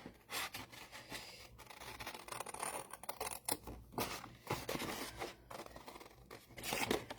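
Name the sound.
scissors cutting around the edge of quilt fabric pieces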